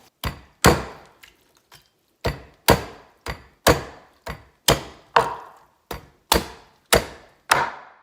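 Heavy, evenly paced blows of a knife or cleaver chopping through chicken bones on a counter for broth, about fourteen loud, close thunks, each with a short decaying ring, with no voices.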